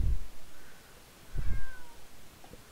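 A cat meows close by, one drawn-out meow in the middle with a fainter cry after it, set between soft low thumps.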